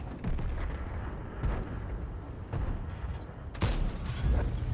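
An IS-3 tank gun fires at an SU-122 in World of Tanks, with a deep blast among rumbling battle booms at moderate loudness.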